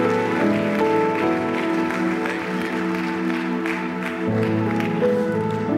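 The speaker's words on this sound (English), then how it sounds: "Somebody help me give Pastor Ben Dailey a warm welcome" Sustained applause from a church congregation welcoming Pastor Ben Dailey to the stage, a dense steady wash of clapping with organ-like music tones sustained underneath throughout.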